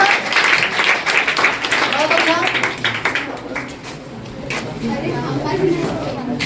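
Audience applause at a GK competition event as names are called, a broad crackling patter of many hands running throughout with a presenter talking over it.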